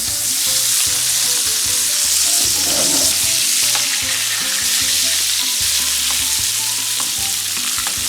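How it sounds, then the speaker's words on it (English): Butter sizzles in a hot pan alongside a seared flank steak, a steady loud crackling hiss running unbroken throughout with occasional spattering pops, and no voices present. "And now I will add the butter."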